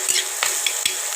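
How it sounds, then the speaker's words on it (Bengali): Ginger and garlic frying together in hot oil, a bright close sizzle with quick spoon clinks and stirring scrapes at a fast, irregular rhythm. "আদা রসুন এবার একসাথে একটু ভেজে নেব।"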